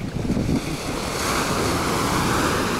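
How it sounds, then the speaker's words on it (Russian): Small sea waves wash onto Cleopatra Beach in Alanya, a steady close surf hiss with some wind buffeting the microphone, heard alone without voices. "Такие вот небольшие волночки."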